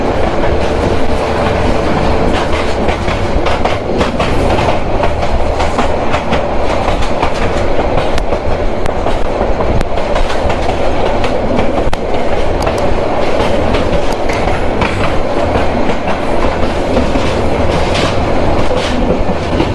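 Teesta Express, an intercity train near Jamalpur Town Junction, runs at speed as heard from an open doorway: a loud, continuous roar of wheels and wind with a rhythmic clickety-clack throughout.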